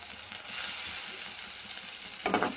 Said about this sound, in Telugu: వేసి కొంచెం ఫ్రై చేసుకుందాం